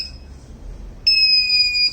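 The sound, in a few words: metal detector robot buzzer sounding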